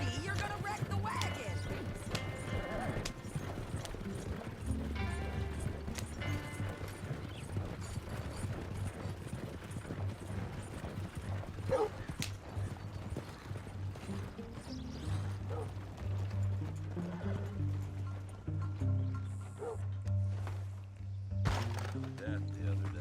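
Wooden horse-drawn wagon in Red Dead Redemption 2 rattling and creaking with mechanical clatter and occasional hoof clops, a steady low rumble throughout, with voices talking over it.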